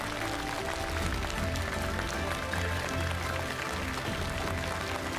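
Studio audience applause welcoming two performers onto a television stage, a dense, even wash of clapping sustained for about five seconds at moderate level, with no voices over it.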